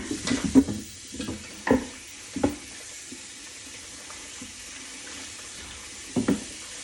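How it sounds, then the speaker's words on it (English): A cutting board and knife being washed under a running kitchen tap with dish soap, a steady low water stream broken by a few knocks and clatters as the items are handled. "Wash my hands and wash this cutting board."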